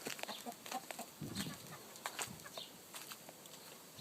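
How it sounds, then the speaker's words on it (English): A rooster clucks and flaps its wings close by in a quiet setting, with short, scattered calls and a soft flurry of feathers. "Here comes the rooster."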